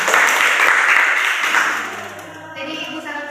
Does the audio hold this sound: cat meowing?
no